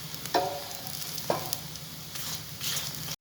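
Aloo paratha frying in oil on a pan gives a steady, soft close sizzle, broken by a few brief scraping or spatula touches as it is turned.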